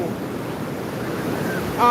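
Ocean waves wash steadily onto a beach with wind buffeting the microphone throughout, a continuous surf roar; a brief tonal whistle appears near the end.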